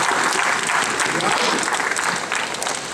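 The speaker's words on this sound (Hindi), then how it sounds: "तालियां" Applause from a crowd at a political rally in Talkatora Stadium, New Delhi: dense, loud clapping that carries on steadily and fades slightly at the end.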